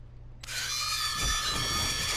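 Power saw from the Five Nights at Freddy's: Help Wanted video game starting up after a quiet low hum, then running as a loud, steady whine with rough buzzing, heard alone.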